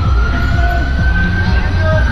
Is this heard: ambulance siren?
yes